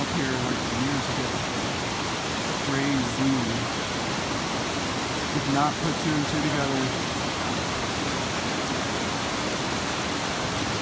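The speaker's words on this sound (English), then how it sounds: "waterfall is outstanding though" Steady broadband roar of Fish Creek Falls, a waterfall in Steamboat Springs on a forest hiking trail, continuous and fairly close, with someone talking briefly over the rushing water.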